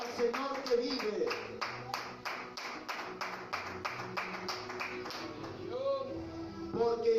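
Church congregation clapping in rhythm during worship, steady repeated claps throughout under a sung or spoken voice and organ-like tones.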